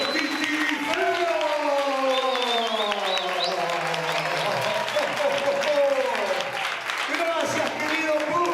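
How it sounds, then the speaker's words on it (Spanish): A studio audience at a live television show applauds to welcome a puppet troupe, the clapping loud and continuous beneath cheering voices and tonal sound throughout. "fuerte el aplauso para recibir a los titirifeos"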